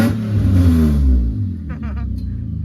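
A free BMW car with messy wiring and a faulty clutch runs after being started, its engine giving a deep, steady rumble that swells briefly in a short rev, then settles back to a running drone.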